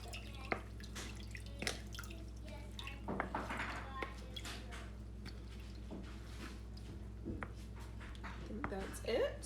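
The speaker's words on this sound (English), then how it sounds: "Then I squeeze out all the juice." Juice is pressed out with a wooden spoon in a bowl: wet squishing and irregular drips and splats, fairly quiet, over a steady low hum.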